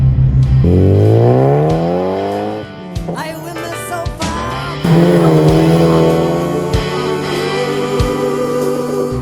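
A 1991 Volkswagen Golf GTI G60 drives along with its engine loud and close, revving up through rising pitch, easing off with a brief gear-change dip, then climbing again in a sustained drone.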